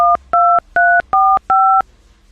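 Touch-tone telephone number being dialed, five clean two-tone beeps in a quick, evenly spaced sequence, loud and close with no talk over them.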